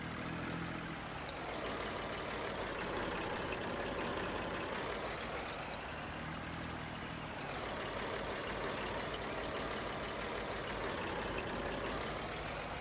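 Small Massey tractor engine running in the Farming Simulator game, a quiet, continuous low rumble that swells and eases gently over several seconds with no talking.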